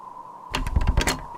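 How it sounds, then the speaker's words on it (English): A locked door in the horror video game Cry of Fear rattles in a short burst of several quick loud knocks and clatters, heard close with no talk. "Locked door."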